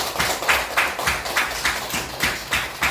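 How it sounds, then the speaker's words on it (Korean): Congregation applauding in a church after a prayer, a dense wash of many hands clapping with a loose, repeating pulse, steady and fairly loud throughout. "우리 크게 박수 부탁합니다"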